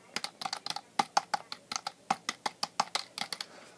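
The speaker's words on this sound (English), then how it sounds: "It is a membrane keyboard, although it does have very tactile feedback" Typing on a Logitech K360 membrane keyboard with tactile feedback and chiclet-style keys, a close run of quick, uneven key clicks in bursts with no speech.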